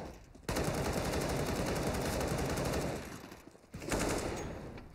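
Automatic gunfire in a CS:GO esports match on the Cache map: long, dense rattling bursts fill most of the moment, break off briefly, then resume loud and close, with no voices over them.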